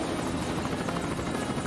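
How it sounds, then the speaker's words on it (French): A helicopter passes overhead with a steady, dense rotor drone, moderately loud and even throughout the short stretch, with no voices. "Un super hélicoptère!"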